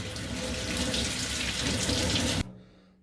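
Tap water pours steadily and close as retrobrited Commodore computer plastic is rinsed, a continuous rushing splash that cuts off abruptly just before the end.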